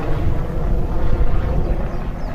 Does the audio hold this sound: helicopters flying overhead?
yes